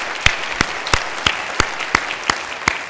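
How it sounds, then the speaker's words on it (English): Audience applause for presenters at a marketplace intelligence conference, heard as a diffuse clapping wash punctuated by a regular series of sharp, evenly spaced claps, about three per second. "a round of applause for them"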